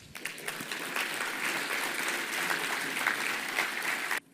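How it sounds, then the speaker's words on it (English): Conference audience applauding at the opening ceremony of the 17th TWAS General Conference: dense, sustained clapping filling the hall for about four seconds, then cutting off abruptly. "Let's show our appreciation with a big round of applause"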